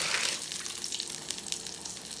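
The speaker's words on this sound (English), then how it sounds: "we are going to add our pinto beans into the boiling water" Dry pinto beans are tipped into a pot of boiling water for Louisiana-style beans and rice with pigtails, giving a brief, close rush of splashing and bubbling hiss with small patters, heard alone.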